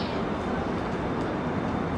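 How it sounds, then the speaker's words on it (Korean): Steady low rumble and hiss of an SRT high-speed train sitting at a station platform, a continuous, fairly faint wash of noise with no distinct events. "이게 SRT 열차입니다."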